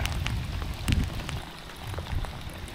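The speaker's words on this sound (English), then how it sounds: "if uh, the rain sticks around too long" Rain falls steadily during a thunderstorm on a bass-fishing outing, a dense close patter of drops with a few louder splashes and no voices.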